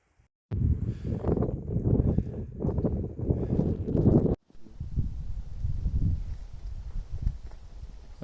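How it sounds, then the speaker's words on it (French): Wind buffeting the microphone on a rocky mountain trail of the GR20 in Corsica, loud gusty rumbling that breaks off briefly before resuming a little softer. "Le vent n'est pas forcément avec nous, mais au moins ça nous refroidit un petit peu."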